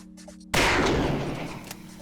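A single loud gunshot from a revolver in the video game 7 Days to Die cracks out abruptly, then rings into a long fading roar, after a quiet bed of soft game ambience.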